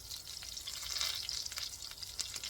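Butter and grease sizzle quietly in a hot skillet over medium heat before corn goes in, a soft even hiss with faint crackles, close but low in level and with no talk.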